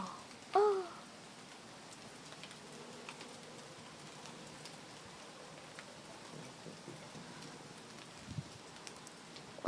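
Heavy thunderstorm rain pours down steadily as the wind picks up, a dense even hiss throughout with a brief louder sound near the start and a low rumble late on.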